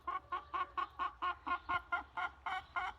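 A hen clucks in a nest box in a backyard garden coop, about ten short, rhythmic clucks in a steady run, close and clear with no talking.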